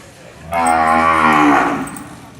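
A single loud, close moo from a cow at a Brahman cattle show, one long drawn-out call of about a second and a half, rising and then fading, heard alone.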